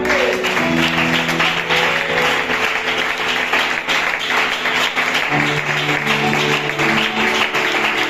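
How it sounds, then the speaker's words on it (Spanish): A church congregation applauds together, a dense, steady wash of clapping lasting throughout, with sustained tones from music or voices running underneath. "¡Aplauda al Señor!"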